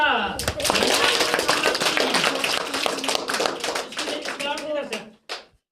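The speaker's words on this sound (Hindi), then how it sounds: "तालियां बजाओ।" Audience clapping for a prize winner at a school annual result day and farewell ceremony, a dense burst of many hands lasting several seconds before tapering off, with a few last claps at the end.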